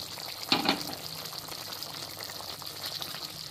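Potatoes and cauliflower cooking in a covered pan on a gas stove give a low, steady simmering hiss, with a brief louder bubbling burst near the start, then an even quiet texture.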